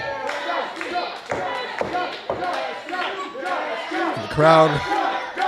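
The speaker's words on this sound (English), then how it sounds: "The crowd getting behind Chris Nastyy again." A wrestling crowd at a Pound 4 Pound proving ground match rallies for Chris Nastyy with rhythmic clapping and shouted chants, loud and close, mixed with excited voices.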